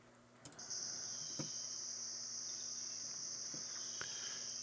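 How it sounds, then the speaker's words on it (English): Crickets chirp in a steady, unbroken high drone across a quiet countryside setting, with a few faint soft knocks and no voices. "I think of crickets, cicadas, grasshoppers, that type of noise"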